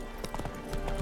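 Roach the horse gallops in The Witcher 3, a quick run of hoof clip-clops with an irregular, rapid rhythm at moderate volume.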